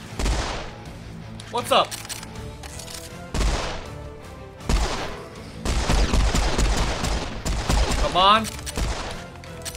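Bursts of gunfire in the Serious Sam 4 video game, with enemy snipers, come in several loud volleys and rapid fusillades with booming impacts, while someone talks over the shooting.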